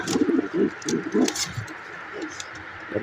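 A pigeon cooing nearby in a short run of soft, low, throaty calls, then trailing off into quiet background.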